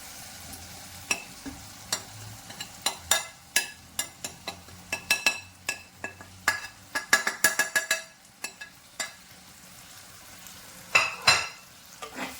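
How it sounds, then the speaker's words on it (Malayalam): Spice powders and softened tomato are stirred while frying in a pan for a fish chili curry, giving a steady low sizzle under frequent sharp spoon taps and scrapes against the pan, some in quick clusters, with no talking. "ഇനി ഈ പൊടിയുടെ പച്ചമണം മാറുന്നിടം വരെ ഒന്ന് ഇളക്കണം."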